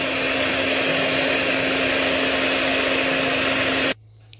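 An electric mixer on its lowest speed beats eggs and sugar for a blueberry cake batter, a steady close motor whir and whine that runs continuously before cutting off abruptly near the end.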